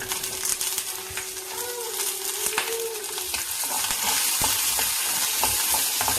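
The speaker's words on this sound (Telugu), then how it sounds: "ఇప్పుడు ఇలా పల్లీలు ఫ్రై అయ్యాయి కదా, దీంట్లో ఒక 5-6 మిర్చి వేద్దాము" Fried peanuts and five or six hot Bangalore chillies crackle and sizzle in oil, with brisk stirring scrapes and clicks throughout and the frying growing denser toward the end.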